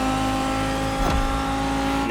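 Lamborghini engine in The Crew Motorfest racing game, a steady loud drone with a brief swelling rev near the middle, playing continuously without pause.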